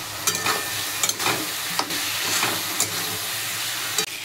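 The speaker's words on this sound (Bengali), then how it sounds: "আলু দিয়ে দেবো, দিয়ে ভালো করে কষাবো" Potatoes and green chilies are sautéed in a fish curry, with a constant close sizzle of frying oil and steam. Rhythmic scraping stirs run through it, about two per second.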